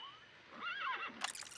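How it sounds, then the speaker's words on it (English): A horse neighs in Metal Gear Solid: Peace Walker, a single rising and falling whinny ringing out clearly over a quiet jungle backdrop, ending in a brighter, noisy burst. "A horse!"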